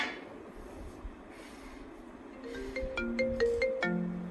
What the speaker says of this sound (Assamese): উফ ৰাম আহিল নহয় ফোনটো।